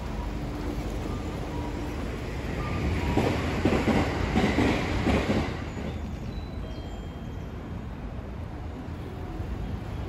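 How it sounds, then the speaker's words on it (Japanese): A Tokaido Main Line train passes close by near JR Takatsuki station, its rumble and wheel clatter rising to a peak midway and then fading into steady outdoor street ambience. "電車が間近に見れるようなそんなシチュエーションです。"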